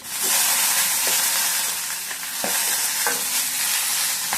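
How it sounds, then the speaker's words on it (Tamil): Onion sautéing in hot oil for radish sambar: a loud, close, continuous sizzle with occasional scraping stirs of a spoon against the pan, no voices. "எல்லாம் ஒன்றா போட்டு வதக்கி போட்டுக்கலாம்"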